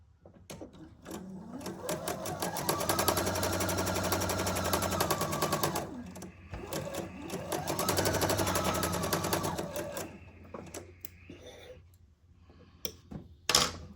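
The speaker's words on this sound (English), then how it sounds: "And then I'm going to go sew with a 1/4 inch seam." A sewing machine stitches a quarter-inch quilt seam at stitch length 2.0, running in two long steady bursts of rapid needle clatter, followed by a few light clicks and handling sounds.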